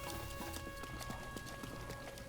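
Horse hooves clip-clop steadily in the video game Breath of the Wild, a quick even trotting rhythm under a constant hum of game music and ambience.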